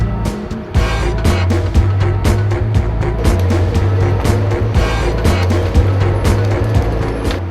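A Ponsse forestry machine on a mountain slope in Alpes-de-Haute-Provence works close by with a loud, steady diesel drone and a repeating low tonal whine as it creeps forward carefully, with clanks and hydraulic knocks over the engine.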